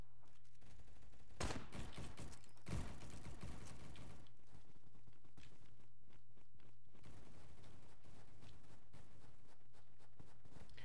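Gunfire from a gun in the video game Bad Business: a dense rattle of quick shots in bursts, loud at first and then thinning into scattered mechanical clicks over a constant low hum.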